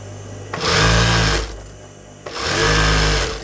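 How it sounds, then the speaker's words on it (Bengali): A sewing machine stitches palazzo pants in two loud close whirring runs of about a second each, with a short quiet pause between them. "আমি আরেকটা সেলাই দিতেছি।"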